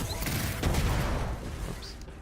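Destiny 2 gunfire rumbles in a dense, loud burst of shots and booms, tapering off toward the end with faint sounds trailing behind.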